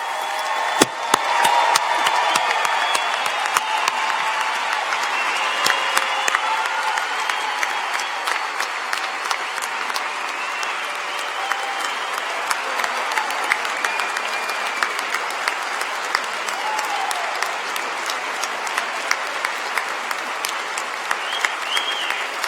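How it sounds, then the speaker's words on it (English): A college of design commencement audience claps steadily in a large hall, a broad sustained round of applause with a few sharper individual claps standing out near the start and a faint voice or two beneath. "let's hear a huge round of applause"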